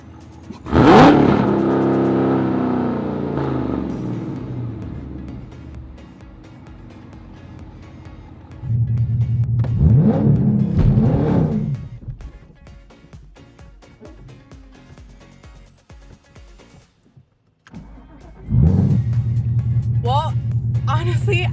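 A Dodge Hellcat Redeye or Camaro ZL1 1LE roars in several loud revving bursts during burnout attempts, with quieter idling gaps between them and a person talking over parts.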